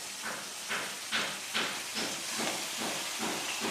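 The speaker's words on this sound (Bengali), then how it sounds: "ফুলকপি আলু দিয়ে একটু ভেজে নেব।" Cauliflower and potatoes frying in a pan with chilli and onion, a steady broadband hiss with soft rhythmic swells of sizzle roughly every half second, close and fairly loud, no talking.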